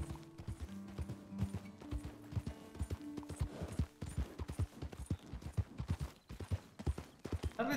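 Horse hooves clip-clop steadily in Red Dead Redemption 2, a brisk, close rhythmic patter of many hoof strikes running throughout, with faint mechanical clatter and a low tonal hum underneath.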